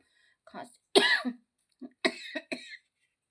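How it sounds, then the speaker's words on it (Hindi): Several harsh coughs in quick bursts, close and isolated, separated by short silent pauses. "खांसी बहुत ज्यादा है"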